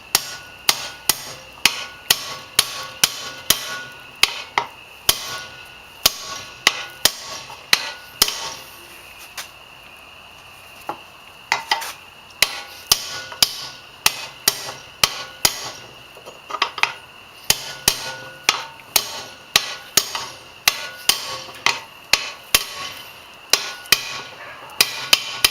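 A bearing is hammered into a seized, rust-filled engine case using a 36 mm socket on the outer race, sharp metallic blows struck repeatedly in steady rhythm, close and loud, with a brief pause partway through.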